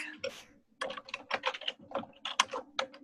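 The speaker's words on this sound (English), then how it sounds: "I hear lots of clicking." Computer keyboard typing in an online meeting, a rapid irregular run of crisp key clicks heard close and fairly quiet, with a brief soft sound before the typing begins.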